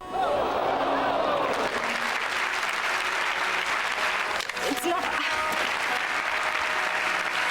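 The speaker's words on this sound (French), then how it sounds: "Beau timing avec les applaudissements" Sustained audience applause fills the room at a live French comedy translation show, steady and loud from start to finish, with voices briefly audible over the clapping in the first seconds.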